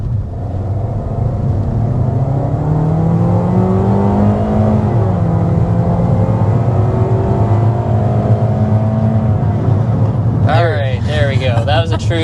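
A gas 2026 Toyota Corolla Cross XLE with mechanical all-wheel drive accelerates hard from 0 to 60 on a flat road, its engine note climbing steadily under a loud cabin drone before voices break in at the end.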